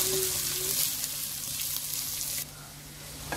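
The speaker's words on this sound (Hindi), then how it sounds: "अब हम इसमें ऐड करेंगे अनियंस और इसे सॉफ्ट होने तक फ्राई करेंगे।" Onions fry in a pan over a lowered flame while cooking chicken pot rice, giving a loud, close, steady sizzle and hiss that runs throughout without a break.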